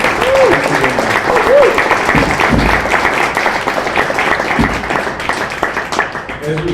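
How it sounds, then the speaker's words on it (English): Applause from a small audience at a WeWork Times Square chat, brisk clapping throughout with scattered voices and a few cheers mixed in, gradually thinning near the end. "Help you give her a round of applause"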